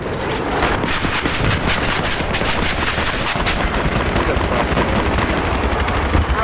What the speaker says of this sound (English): Rise wide, I've spotted a hostile helicopter,